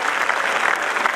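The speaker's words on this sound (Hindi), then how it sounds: "कलाकारों का तालियों से स्वागत करेंगे।" An audience at a large motivational event in Thane applauds to welcome performers from Kolhapur, Maharashtra, producing dense, continuous, loud clapping throughout.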